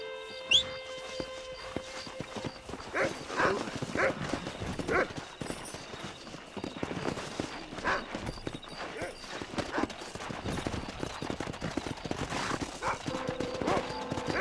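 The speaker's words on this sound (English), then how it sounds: "That ranch hand said there's a pack of wild horses nearby." Wild horses in Red Dead Redemption gallop with repeated clip-clopping hooves and occasional whinnies, the hoofbeats coming and going at moderate distance amid ambient game noise.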